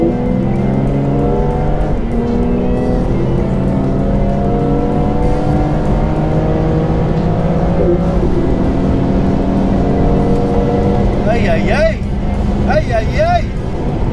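A BMW M2 Competition and a tuned Golf R accelerate hard in third gear during a rolling race, engine note rising steadily in pitch, loud and close, with a brief tire squeal or whine near the end and voices talking over it.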